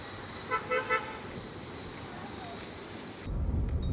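An auto rickshaw passes on a road and gives three quick horn toots close by near the start, over steady traffic rumble and wind noise, with a heavier roar swelling at the end.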